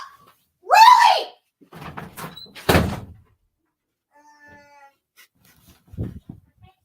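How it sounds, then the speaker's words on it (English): A door is shut with a single sharp thunk in a house at night, coming right after a loud shout and amid scattered voices and quieter sounds. "Do not shut the door!"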